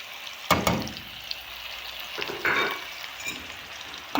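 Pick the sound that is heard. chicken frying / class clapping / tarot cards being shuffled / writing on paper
chicken frying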